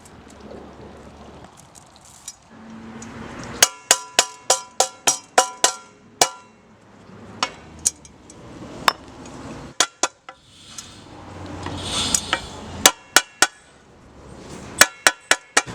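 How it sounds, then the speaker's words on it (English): Sharp metal hammer strikes knock screws out of metal plates on a 212cc mini-crosskart go-kart build, arriving in uneven bursts of ringing clinks, close and loud, with short pauses between the volleys. "I'm gonna have to feed them out with a hammer."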